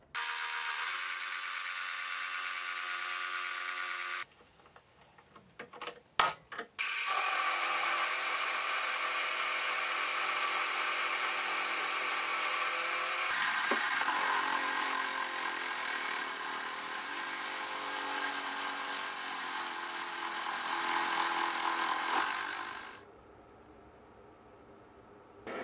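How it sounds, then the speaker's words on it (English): A milling machine cleans up a metal cover plate with a sustained, high, hissing cut that pauses briefly, resumes, then stops near the end, steady and close with no speech. "I can get the cover plate in the milling machine and cleaned up"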